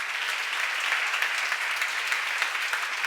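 A congregation at a church seminar claps in steady, dense applause, a continuous bright wash of many hands at moderate distance with no voices over it.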